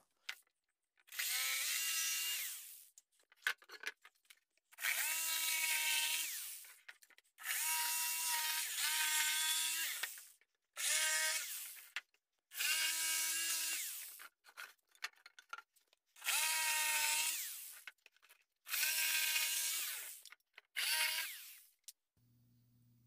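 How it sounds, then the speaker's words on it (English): A jigsaw cuts through wood while an old desk is turned into a bar, sounding as a series of loud, close bursts of buzzing sawing separated by short pauses. "I'm going to grab my jigsaw."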